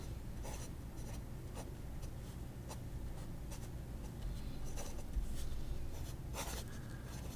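A Jinhao 59 fountain pen with an inset nib scratching across paper in short strokes, faint and close, with soft repeated scratches over a low background hum.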